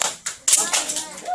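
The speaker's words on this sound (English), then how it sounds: "can we all try doing clapping in the same time?" Children clap together, trying to keep time in unison, producing several sharp broadband claps with uneven spacing, close and fairly loud, with a teacher's voice mixed in.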